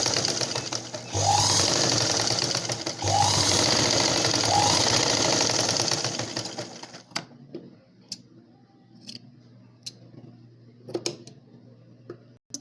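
Sewing machine stitching a blouse neckline runs in loud, rapid mechanical bursts with a brief pause, then stops, followed by scattered clicks and light handling of fabric.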